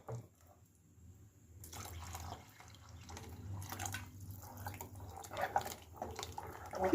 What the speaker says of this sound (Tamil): இதுக்கு நம்ம தேவையான அளவு தண்ணியை ஊற்றிக்கலாம்.